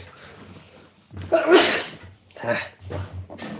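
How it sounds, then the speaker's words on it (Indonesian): A single sharp sneeze bursts out mid-sentence during a discrete mathematics lecture, preceded by a short breathy intake, with the lecturer's talk resuming right after. "bersin, maaf"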